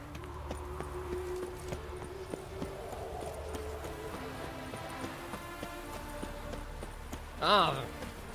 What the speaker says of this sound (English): Me trying to win a horse race in a game.